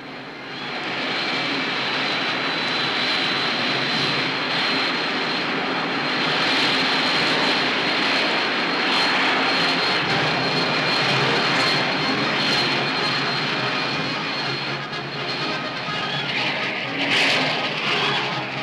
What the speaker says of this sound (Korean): 수직으로 올라가고 또 수직으로 내려올 수 있는 새로운 제트 전투기가 개발되었습니다